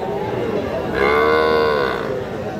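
A Nepali Gir bull calf gives one clear, drawn-out moo lasting about a second, close by, with quiet background before and after.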